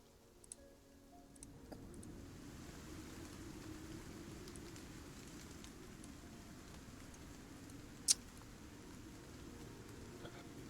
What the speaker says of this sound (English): The rain gets heavier, and the wind picks up.